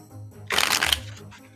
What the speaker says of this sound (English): I'm gonna just go ahead and shuffle